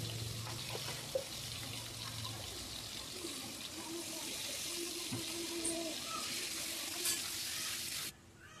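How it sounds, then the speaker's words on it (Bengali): Cut and washed potato pieces fry in hot oil with turmeric and salt, giving a steady, close sizzle with light stirring that runs unbroken and fades out at the very end. "এই তেলের মধ্যে এবার দিয়ে দেব কেটে ধুয়ে রাখা আলুগুলো লাল লাল করে ভেজে নেব।"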